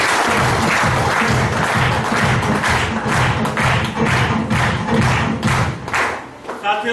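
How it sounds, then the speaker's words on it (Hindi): Enthusiastic clapping from a business networking seminar audience in Kondagaon, Chhattisgarh, loud and rhythmic with heavy pulsing thumps underneath, fading near the end. "एक बार जुनून और जज्बे के लिए जबरदस्त ताली दें।"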